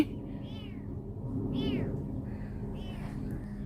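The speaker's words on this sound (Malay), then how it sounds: "Kucing ni." A cat meows several times, close and fairly clear, in drawn-out wavering cries over a steady low background hum at a beach in Selangor.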